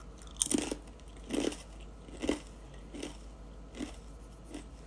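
Close crunching bites into thin, very crispy rye crackers, about six distinct crackly bites spaced roughly a second apart that grow softer toward the end, with faint chewing between them and no speech.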